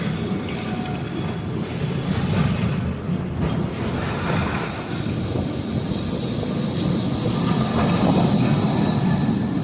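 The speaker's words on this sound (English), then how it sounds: "The popular old city trams also bring you from Baixa to these neighborhoods." An old city tram in Lisbon rumbles along the rails with steady rolling noise, faint clicks and occasional squeal, moderately loud and continuous.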